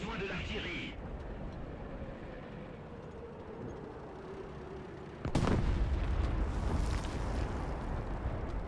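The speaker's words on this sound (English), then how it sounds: "Let's drop artillery. Come on, French artillery. Do your work," French artillery firing in a video game, a steady low rumble that erupts into a loud, broad blast about halfway through and then holds as a heavy, sustained roar.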